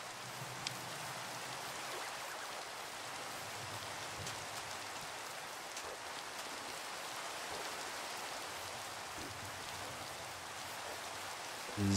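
Steady rain pours in Minecraft, a dense even hiss of drops on wet ground lasting throughout with no talk.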